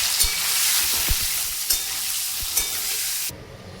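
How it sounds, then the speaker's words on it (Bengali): Potatoes sizzle steadily as they fry in hot mustard oil, with a few soft stirring knocks, until the sizzling cuts off near the end. "এখন আলুগুলোকে আমি ভেজে নেব"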